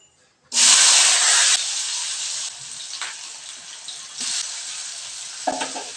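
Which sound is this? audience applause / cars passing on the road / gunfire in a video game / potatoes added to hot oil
potatoes added to hot oil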